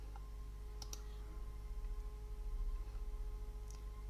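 A few sharp computer mouse clicks, close and fairly quiet, come in small pairs over a low steady hum, with a brief cluster early and another near the end.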